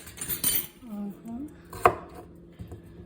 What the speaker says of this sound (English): Now I'm going to cut the rest of this cucumber right here.